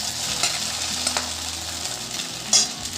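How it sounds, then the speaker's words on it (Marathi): Soaked sabudana (tapioca pearls) and cloves fry in hot ghee, a continuous crackling sizzle with stirring scrapes and a sharper clink or pop late on, steady and close. "तापलेल्या तुपात मी लवंगा टाकते. साबुदाणा टाकते भिजवलेला."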